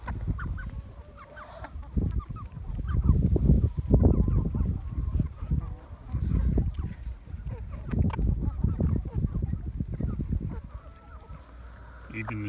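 Free-range turkeys and chickens feeding on a mix of oats and wheat, a busy cluster of nearby clucking and gobbling calls in uneven bursts over outdoor background noise.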